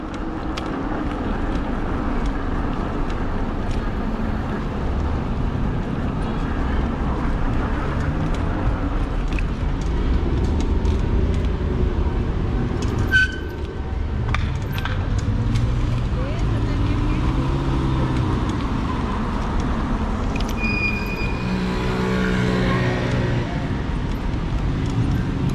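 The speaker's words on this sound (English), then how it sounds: "We have traffic aplenty" Road traffic rolls past during an e-bike ride, a steady broadband rush of passing cars with a wind-like roar that continues throughout, with a voice heard faintly now and then.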